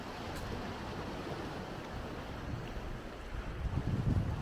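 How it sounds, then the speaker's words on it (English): Large waves crashing onto a beach at Nerja on Spain's Costa del Sol the day after a storm, a steady wash of surf and wind that swells louder toward the end. "The waves are still pretty big from the storm yesterday, I think. Some of them are even crashing and spraying up over this."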